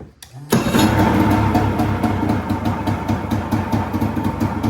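A water dirtbike engine starts with a short burst and then runs at a loud, steady, throbbing idle close by.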